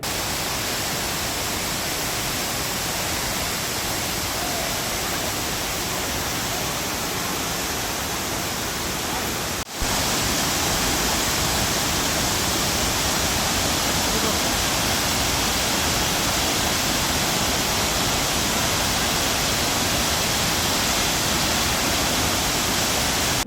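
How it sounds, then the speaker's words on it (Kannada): The Jari waterfall pours at full monsoon flow in a dense, unbroken roar that stays loud and even throughout, with one brief dropout near the middle. "ತಾಲೂಕಿನ ಜರಿ ಜಲಪಾತವು ಮೈದುಂಬಿ ಹರಿಯುತ್ತಿದ್ದು"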